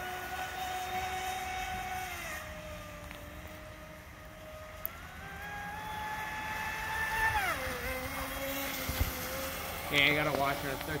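A small radio-controlled Traxxas boat motor whines steadily, its pitch rising and falling as throttle changes, with voices and water noise in the background.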